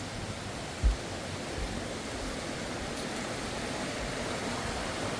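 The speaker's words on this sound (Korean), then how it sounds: "맑은 계곡 물소리가 시원하게 들렸습니다" A clear valley stream on Chiaksan mountain rushes in a steady, broad wash of flowing water, constant and moderately loud with one brief thump near the start and no talking.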